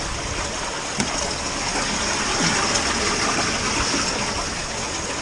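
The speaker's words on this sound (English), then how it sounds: "I just increased the water flow." Water gushing steadily after the flow was turned up, a loud, continuous broadband rush with no pauses, close by and alone without talk.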